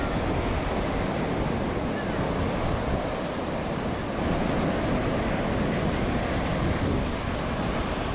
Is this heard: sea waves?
yes